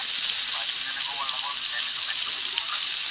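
Chicken fries in hot oil on a clay roof tile, giving a loud, steady hiss and crackle of sizzling throughout, with faint voices in the background.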